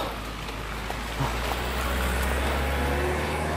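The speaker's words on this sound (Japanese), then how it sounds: "車来てたびっくりした" A car approaches on a rural road, heard by someone on a bicycle trip as a steady low rumble with wind noise that swells slightly as it nears.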